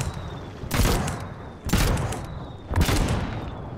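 Ships in the video game Trailmakers fire three loud, evenly spaced volleys of rapid gunfire, each a dense crackling burst about a second apart, with no talking over them.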